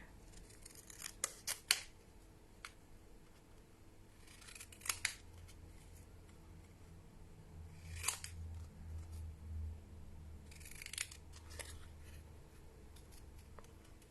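Scissors snipping paper for a folded card, several quiet, distinct cuts in short bursts with pauses between, close and alone in a quiet room.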